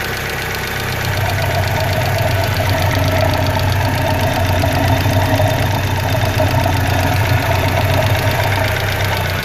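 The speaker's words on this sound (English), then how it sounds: "You have a little bit of a lifter tick or something going on." A 1995 Mitsubishi Eclipse GST engine idles with a light lifter tick, a steady close rumble with a fast, even ticking on top that runs through with no speech.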